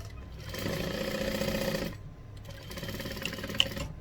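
A sewing machine stitches quilt binding in two steady runs of motor hum, the first longer and louder, separated by a brief pause, with a small click near the end.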